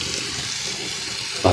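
Water pours steadily into a pan of shrimp and ridge gourd set to boil, a continuous rushing flow that swells a little louder just at the end, with no talk.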